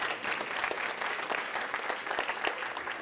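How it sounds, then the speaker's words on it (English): Children and other audience members clap steadily at a school concert, a continuous moderate round of applause with individual claps distinct, holding an even level throughout. "let's give them a round of applause, kids."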